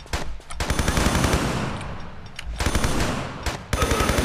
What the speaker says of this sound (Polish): Ale strzela takimi seriami z tego, że masakra.